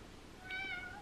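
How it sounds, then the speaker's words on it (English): A cat meows once, a short clear mewing call in the middle of a quiet indoor room, close to the microphone. "This is Ryan's mom's cat"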